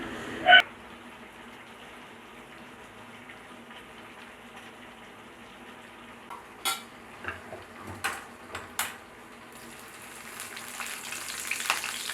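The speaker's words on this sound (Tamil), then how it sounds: "எண்ணெய் ஊற்றி அதில் கடுகுண்டு, கருவேப்பிலை, சின்ன வெங்காயம் நறுக்கிறதெல்லாம் போட்டு நல்லா வதக்கிட்டு இருக்கோம்" Oil sizzles and crackles quietly in a pan as mustard seeds, curry leaves and chopped shallots sauté, with a few sharp clinks of utensils against the cookware partway through.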